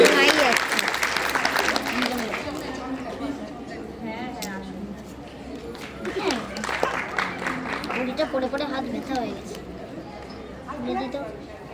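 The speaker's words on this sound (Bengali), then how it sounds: "আরেকবার একটু জোরে করতালি হোক সকলে" An audience at a dance school's annual function claps loudly and continuously, the applause strongest at first and then easing under an announcer's voice and crowd murmur.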